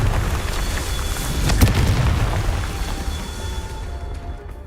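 Confringo fire spell explodes in Hogwarts Legacy, a loud rumbling boom swelling up mid-fight and then trailing off into a crackling, rain-like wash of debris before fading out.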